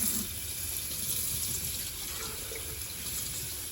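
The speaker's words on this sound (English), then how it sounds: "So what you're gonna do is just take this part out and feel free to just rinse it." Tap water running steadily over the mop part of a Dyson V15s Submarine cordless vacuum as it is rinsed, a continuous close splashing wash with no talk.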